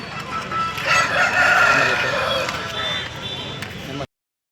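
A rooster crows at a Sunday rooster market in Pileru, one long loud call rising over busy crowd noise and nearby chatter, cutting off abruptly near the end.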